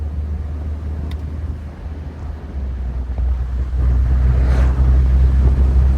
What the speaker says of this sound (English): Let's pop it into overdrive.